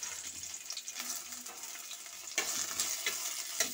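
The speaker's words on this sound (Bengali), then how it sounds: "এর মধ্যে আমি ঢ্যাঁড়সগুলোকে ভেজে নিচ্ছি।" Okra frying in hot oil in a heated pan, heard as a continuous close sizzle with crackling spits and a few stirring scrapes, with no talking.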